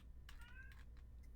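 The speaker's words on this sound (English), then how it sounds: "Cat says, screw you. I'll meow what I want." A cat gives a short, faint meow with a clear wavering tone, followed by a few soft clicks that resemble keyboard typing, in a quiet room with no talk.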